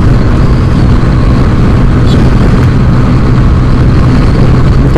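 A Yamaha Mio scooter, fitted with light CVT rollers and a stiff clutch spring, runs at sustained high revs. Its steady, loud engine drone is mixed with rushing wind noise and continues unbroken, with no talk heard.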